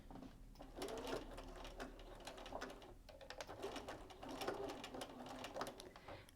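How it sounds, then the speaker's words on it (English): Sewing machine running a straight stitch along a bra seam edge on a bustier, the needle whirring in steady rapid bursts with brief pauses, close and alone without talk. "I'm going to sew with a straight stitch as close as I can to that edge."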